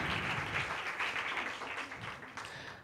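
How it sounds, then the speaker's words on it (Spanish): A science talk audience applauds the speaker with a steady crowd clapping that fades gradually toward the end, no voices over it. "Muy bien, un aplauso para Susa."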